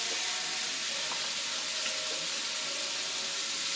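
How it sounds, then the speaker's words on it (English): Snap peas, carrots, squash and red and yellow peppers frying in a hot stir-fry pan give off a steady, even hiss that runs unbroken throughout, fairly loud and close, with no talking. "We have everything for a stir fry. Straight into the pan,"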